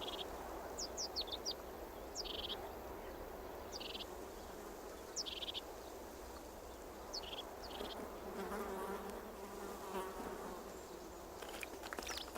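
Mosquitoes buzz in a dense, steady hum through a Canary Islands outdoor setting, with short high bird chirps repeating above it and no voices.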